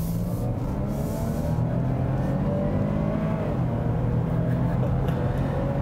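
Supercharged engine of a 2017 Land Rover Discovery HSE Lux accelerating, heard from inside the cabin as a steady low drone with a gradually rising pitch and constant road noise.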